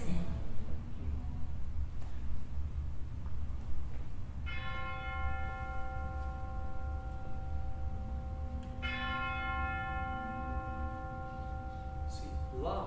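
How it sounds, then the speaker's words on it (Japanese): An orchestral bell strikes twice in a performance of Mahler's Symphony No. 3, each stroke ringing out with a long, shimmering sustain over a soft, steady orchestral background. "It's actually this sort of bell."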